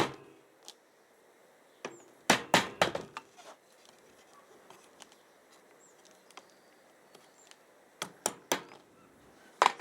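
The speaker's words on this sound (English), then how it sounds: "Tap it in softly, you're not nailing it in or anything, you're just tapping it in." A wooden bottom bar tapped softly into a 14 by 12 beehive frame, clusters of light, sharp wooden knocks with quiet gaps in between, close by in a calm room.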